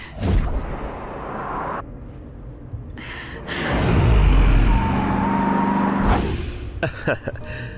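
A car being driven along a road, its engine a steady low rumble that swells and fades, with brief quieter gaps and a few sharp transient noises.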